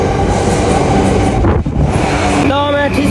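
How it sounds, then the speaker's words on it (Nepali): A train rolls in slowly with a steady heavy rumble and rail noise, then a high, ringing brake squeal rises near the end as it slows. The noise stays close and loud throughout. "ट्रेन आयो बिस्तारी आउँदैछ, ब्रेक हान्दै हान्दै आउँदैछ"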